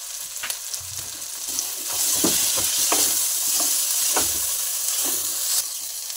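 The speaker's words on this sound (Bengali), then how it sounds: "মশলাটা আমার এইভাবে ভাজা হয়ে গেছে" A spice mix of turmeric, chilli, coriander and cumin powders fries in a pan for vegetarian ghugni, giving a steady close sizzle with intermittent scraping stir strokes.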